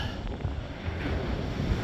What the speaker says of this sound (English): You know when the wave literally blows away because it's so windy.